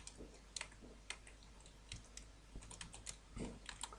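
Code being typed on a computer keyboard in short, irregular runs of soft, close key clicks with brief pauses between them. No voice is heard.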